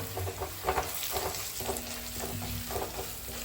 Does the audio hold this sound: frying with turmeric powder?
yes